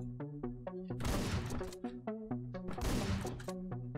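Shotgun blasts in Hotline Miami 2, two loud, noisy bursts fired a couple of seconds apart over a pulsing synth music track.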